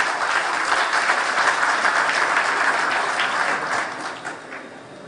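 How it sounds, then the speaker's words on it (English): Sustained applause from a large conference audience at a water-industry convention in a hall, dense and steady clapping throughout before tapering off near the end. "Round of applause, everyone."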